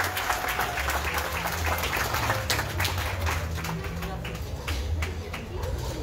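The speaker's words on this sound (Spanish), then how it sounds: "Fuerte el aplauso, por favor, para él." Audience applauding at a political rally, sustained clapping across the whole stretch with crowd noise and voices mixed in, moderately loud and continuous.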